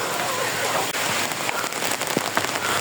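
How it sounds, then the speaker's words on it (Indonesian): Rain falling steadily on surfaces outdoors in a village of closely packed houses, a dense loud hiss with scattered sharper drop taps close by. "Dan sekarang udah hujan lagi nih kayak gini."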